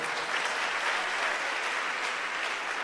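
A church congregation claps together in a dense, even, fairly soft burst of applause that holds steady for a few seconds, with no voices rising above it.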